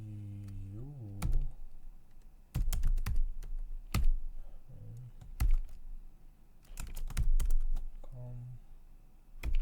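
Someone types a Linux command on a computer keyboard while setting up a Raspberry Pi 5. Clusters of crisp, close keystrokes come in irregular bursts, with someone talking between and over them.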